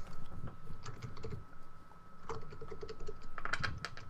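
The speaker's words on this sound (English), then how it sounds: "Typing sounds." Keys clatter on a computer keyboard in a steady, dense run of close, fairly loud strokes, with a constant hum underneath and no talk.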